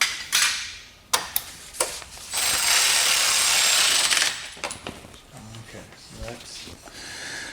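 A ratchet tightens the screw that holds the front splitter bracket on a BMW E92 M3. Several short, close clicking bursts come at irregular intervals, alongside a longer sustained mechanical whir.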